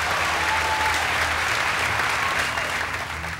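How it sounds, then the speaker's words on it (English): An audience applauds a band member at a live country band show, with dense, steady clapping from a full crowd that tapers off slightly at the end. "You can applaud him if you'd like."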